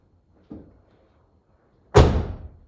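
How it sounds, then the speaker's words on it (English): A car door on an offroad race vehicle fitted with a secondary latch is shut: a faint soft knock, then a single loud, close slam that rings briefly. "I close the door."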